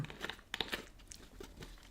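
A cookie is crunched in several quick, crisp bites that come close and fairly quiet, followed by softer chewing with no talking.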